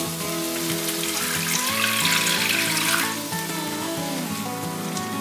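Water pours into a stir-fry pan holding baby corn and yellow bell pepper, giving a loud, steady splashing rush that briefly intensifies and then settles back to a continuous sizzle and flow.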